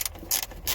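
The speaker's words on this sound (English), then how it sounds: "I always recommend the ratcheting ratchets because they're just so much more easier to work with." Quick clicking of a ratcheting socket wrench loosening a bolt during an F150 brake light repair, with two or three short bursts of ratchet clicks up close and no talking.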